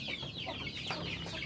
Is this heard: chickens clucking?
yes